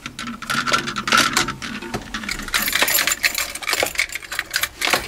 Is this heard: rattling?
yes